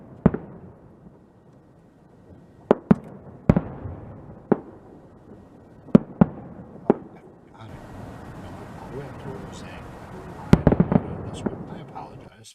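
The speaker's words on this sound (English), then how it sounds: "We're going to get some fireworks." Fireworks sound effect for a baseball card break: a series of sharp, loud pops and bangs spaced irregularly, then a burst of crackling and several rapid pops near the end, with a low rumble between.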